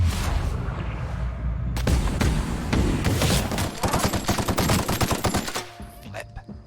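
Rifle fire in the shooter game The Outer Worlds, loud bursts of rapid gunshots that build into a sustained rattling volley, then taper off into a few lighter cracks at the end.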